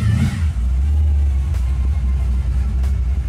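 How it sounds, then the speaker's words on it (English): Supercharged 1971 Oldsmobile 442 engine revving nearby, a loud deep rumble that swells and settles with a faint high whine above it, heard without talk. "You can hear the blower. It's demanding attention."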